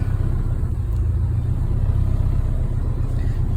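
A project car's engine, a Corona, idles steadily up close with a low, continuous rumble while its radiator fan runs alongside, no talking heard.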